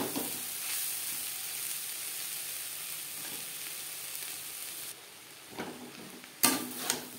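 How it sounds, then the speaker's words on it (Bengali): Bottle gourd peel and grated coconut stir-frying in a pan over low to medium flame, a steady soft sizzle throughout with occasional louder scrapes and stirring clatter toward the end; no voices. "নারকেলের সাথে লাউর খোসা 3-4 মিনিট লো টু মিডিয়াম ফ্লেমে নাড়াচাড়া করে নেব।"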